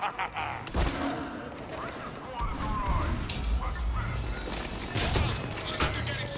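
Gunfire in a Mass Effect 3 battle: rapid bursts of weapon shots and impacts crackle repeatedly throughout, loud and dense, mixed with mechanical clatter and game effects.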